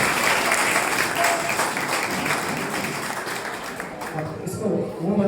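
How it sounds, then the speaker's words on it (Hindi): A crowd applauds for Ashish at a live motivational talk, steady dense clapping filling the whole stretch at close range, with some voices mixed underneath. "आशीष सर के लिए तालियां बताइए"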